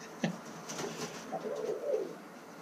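Portuguese tumbler pigeons coo close by, a sharp call at the start and then soft, rolling low coos repeating over a quiet background.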